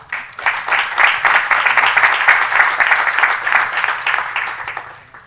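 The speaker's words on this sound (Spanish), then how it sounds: "un aplauso, por favor" Applause from an audience at an education talk, swelling quickly into loud, sustained clapping from many people, holding steady for several seconds before fading slightly at the end.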